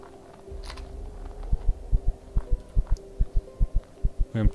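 Heartbeat effect from the video game Empyrion – Galactic Survival for a poisoned player: a steady, accelerating series of deep thumps, alone over a low ambient hum.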